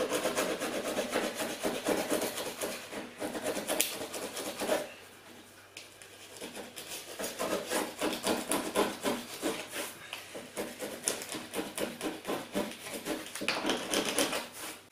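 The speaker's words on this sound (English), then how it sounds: "This plastic scraper is struggling a little bit to get this silicone off the tile" A plastic scraper scrapes old silicone off tile, making a close, rhythmic rasping of repeated short strokes that pause briefly before resuming steadily, with no talking.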